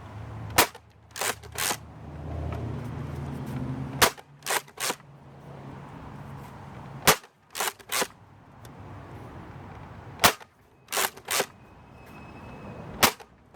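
A toy blaster, the Tactical Twinshock, fires Litake suction cup Mega darts in a string of sharp, snappy pops, some as quick doubles, separated by short pauses and clicks of reloading.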